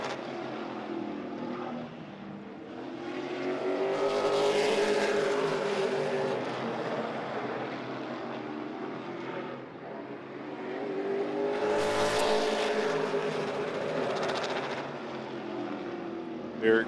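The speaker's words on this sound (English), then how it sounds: "Derek Griffith is taking his car out" A late model race car laps the Hickory, North Carolina racetrack during practice, its engine drone rising and fading twice as it passes, heard at a distance under ongoing commentary.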